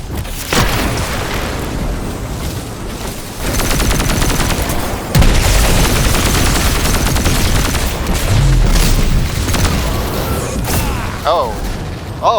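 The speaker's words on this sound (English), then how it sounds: "Oh, he's shooting me." Enemy gunfire in Destiny 2 comes as loud, dense bursts and booming shots over steady game noise and music, with a player talking over the shooting.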